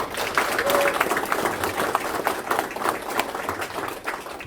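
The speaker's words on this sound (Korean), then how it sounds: "큰 박수로 환영해 주시기 바랍니다." Applause welcomes officials at a district council opening ceremony, steady clapping from a gathered audience that holds at moderate loudness with a voice faintly underneath.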